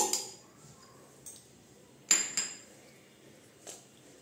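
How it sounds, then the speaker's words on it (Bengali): A lid is lifted off a bowl of chicken marinated in yogurt and spices, giving a few sharp, close clinks and knocks of dish against dish, with quiet pauses between them. "এই যে আধা ঘন্টার পরে আমি এই যে ঢাকনাটা তুলে দিচ্ছি।"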